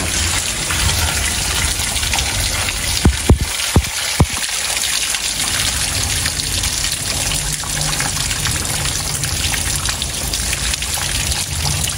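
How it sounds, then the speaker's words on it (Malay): Water leaks steadily in an old flat block in Kuchai Lama, Kuala Lumpur, a continuous loud gushing trickle with a few brief knocks partway through. "Sebab air pun dah bocor rot ni."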